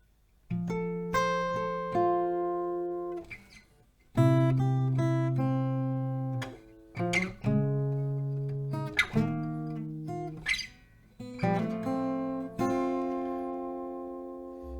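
Acoustic guitar plays the intro of a song at a slow pace, with strummed chords ringing out and sustaining between changes, close and clear, no voice.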